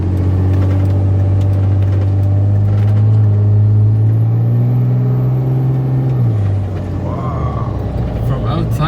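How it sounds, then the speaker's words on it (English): Inside the cab of an armoured, bulletproof Dodge Ram 2500, a loud, steady engine drone builds as the truck accelerates, with a faint rising turbo whistle, and people talk over it. "you can hear the turbo just spooling"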